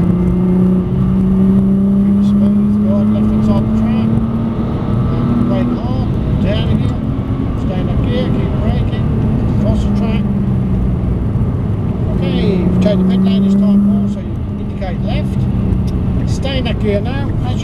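Nissan GT-R driving on the Prestwold Hall track, with a loud, continuous engine drone that rises and falls in pitch through gear changes, under near-constant instructor speech in the cabin.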